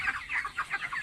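Poultry chickens cluck in quick, repeated bursts close by, a run of short, bright calls with no talk over them.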